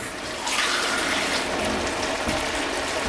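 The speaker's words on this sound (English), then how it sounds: "I'm going to put another can of water in" A can of water pours steadily into a pot of cooking fideo vermicelli noodles, a continuous close splashing wash lasting a few seconds with no voices.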